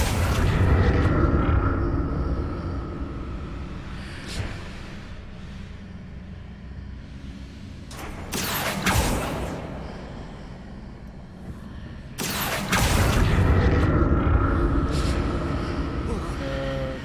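A magic blasting-spell explosion in the Hogwarts Legacy video game: several sharp, loud bursts stand out against a rumbling in-game background, while a player talks throughout.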